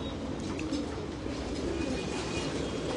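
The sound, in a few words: pigeons cooing while being fed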